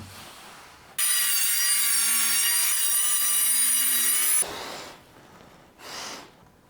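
A handsaw cutting deeper relief cuts into wood for a crow's nest build, one steady loud rasping stroke run lasting several seconds close by, followed by two brief softer scrapes.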